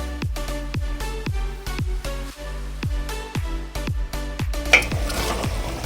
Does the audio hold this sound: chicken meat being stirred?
yes